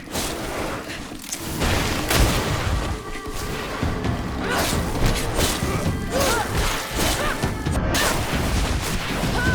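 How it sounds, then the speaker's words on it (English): A loud, chaotic battle in the GreedFall video game, with a grenade blast amid continuous crashes, thuds and impacts that fill the whole stretch and leave no quiet gaps. "Watch out! Grenade!"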